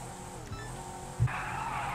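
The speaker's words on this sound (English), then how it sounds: "Listen to that engine." A Mercedes G-Wagon in GTA 5 makes a low engine drone with a short tire squeal. A louder burst comes near the middle, then the engine keeps running steadily.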